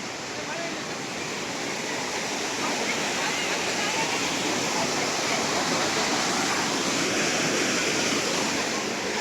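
Steady, loud broadband rush of a waterfall beside small temples in Uttara Karnataka, Karnataka, continuous and close for the whole stretch with no breaks.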